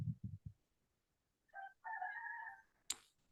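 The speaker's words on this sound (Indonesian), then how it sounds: "Ada suara ayam" A rooster crows from a distance, faint but clear, in a single drawn-out call. It follows a few soft thuds and ends with a brief sharp noise in a quiet classroom.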